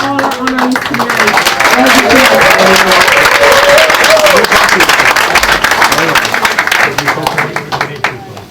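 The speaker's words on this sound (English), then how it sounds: "A big round of applause for all our honorees tonight." Loud sustained applause from an audience honoring award recipients at a heritage award ceremony, with cheers and shouting voices mixed into the clapping, gradually thinning toward the end.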